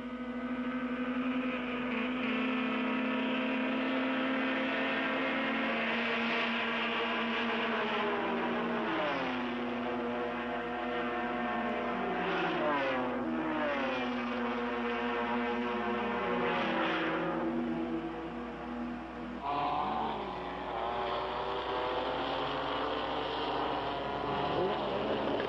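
1972 Nissan Skyline GT-R race cars scream past at Fuji in the Fuji Masters 250 km, racing Mazda Savanna RX3s, with high engine notes climbing through gears, swooping pitch changes as cars pass, a steady loud field of racing engines throughout.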